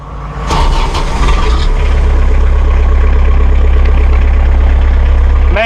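A heavy Massey Ferguson tractor diesel engine cranks and catches, then settles into a loud, steady low idle that runs on without pause.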